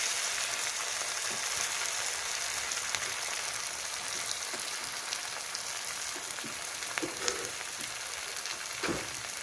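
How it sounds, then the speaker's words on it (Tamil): Small mushroom batter balls deep-fry in a pan of hot oil, making a continuous dense crackling sizzle like light rain, with a few faint clinks near the end and no talk. "நல்லா எண்ணெய் ஊற்றி எண்ணெய் காஞ்சிடுச்சு. காளானை பரட்டி வச்சது ஊறிடுச்சு. இப்போ நம்ம ஒரு சின்ன சின்ன உருண்டையாக உருட்டி நம்ம இதில் சேர்த்துக்குவோம். பொரிச்சு எடுத்துடலாம்."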